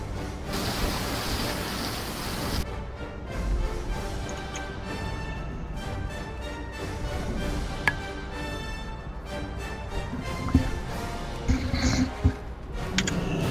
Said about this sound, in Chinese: 我这边在下雨啊，对，而且下的很大很大